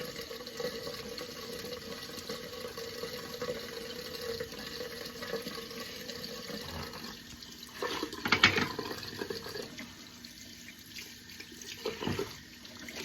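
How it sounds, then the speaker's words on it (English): Tap water runs steadily into a sink to rinse off shaving cream, a continuous close hiss with a brief louder splashing burst partway through and another near the end. "Just gonna rinse that off."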